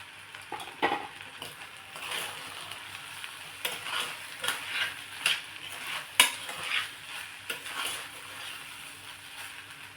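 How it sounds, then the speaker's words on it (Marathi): Rice for masala bhat is stirred and roasted in a pan, with a steady sizzle broken by repeated scraping spoon strokes against the metal, close and fairly quiet. "तर आपले तांदूळ छान परतले गेलेत"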